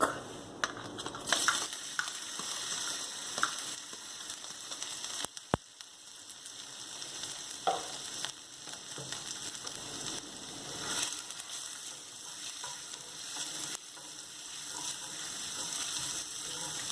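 Ginger and garlic frying in oil for vegetable chow mein, a soft, continuous sizzle with occasional light stirring taps, close but fairly quiet, with no talk.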